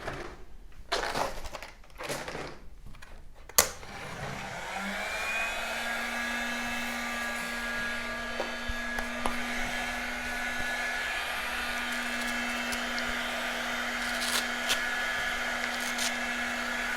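A handheld heat gun blows a steady, loud whir while smoothing the cut edges of a thermoplastic wrist-hand orthosis, starting after a few sharp clicks and knocks and running on evenly to the end.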